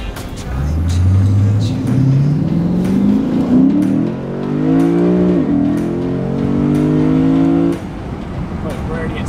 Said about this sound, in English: Literally switched into third gear, didn't even need to be in third gear, and we're already at 60 miles an hour.